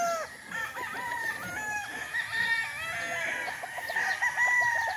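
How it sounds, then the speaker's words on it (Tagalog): Several roosters crow over a busy farmyard, overlapping calls rising and falling with chickens clucking throughout, fairly close and steady. "Ayan po yung mga manok natin."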